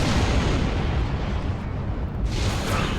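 Starship weapons fire and an explosion in the space combat video game Star Trek Online: a dense, continuous roaring blast that dips briefly, then surges again with a bright, hissing burst near the end.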